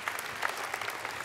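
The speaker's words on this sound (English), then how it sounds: "well, I give yourselves a round of applause." Brief applause from an audience at a technology conference talk, a short patter of scattered hand claps with individual claps standing out, fairly quiet and without speech.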